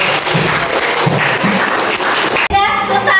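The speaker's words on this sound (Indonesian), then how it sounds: "oke, tepuk tangan dulu" Group applause fills a classroom during a coaching and academic supervision session, steady dense clapping with children's voices mixed in, then an abrupt shift near the end as a voice and other sounds take over.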